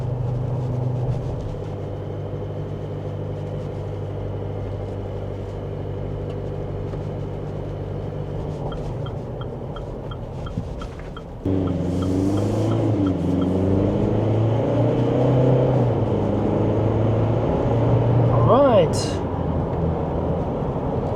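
A GWM Cannon 2.4T 4WD pickup driving on sealed pavement, heard from inside the cabin: a steady engine drone and road hum that jumps louder midway as it accelerates, with a rising whine near the end, under someone talking.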